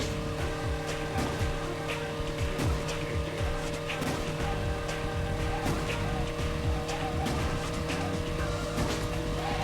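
Racing cars in a racing video game, engines droning steadily with repeated tire squeals and skids, dense and continuous with no voices.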